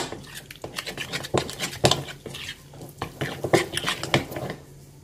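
A spoon stirs ready-made Nestlé caramel in a bowl for a caramel hazelnut cake, giving soft irregular scrapes and light clinks at close range with no talking.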